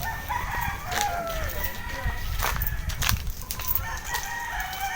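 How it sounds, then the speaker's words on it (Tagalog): Chickens and roosters on a chicken farm, with several crows rising over steady clucking and a noisy outdoor background, close and fairly loud. "Yan, mga manok."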